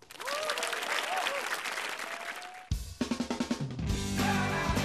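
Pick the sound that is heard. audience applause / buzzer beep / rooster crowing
audience applause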